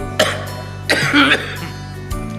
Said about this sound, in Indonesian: Mohon maaf ya, saya lagi batuk.